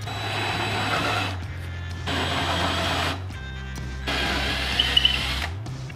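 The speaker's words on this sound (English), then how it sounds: "All right, let's drill some holes." A power drill whirs in three bursts separated by short pauses, its motor pitch changing as it bites, drilling holes inside a Dodge Ram pickup truck's center console area.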